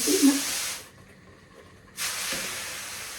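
Steam hisses loudly from a pot of quince marmalade flavored with port wine, cooked the old-fashioned way, in two bursts separated by a short quiet gap.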